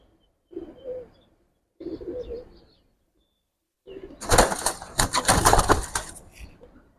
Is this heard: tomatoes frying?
no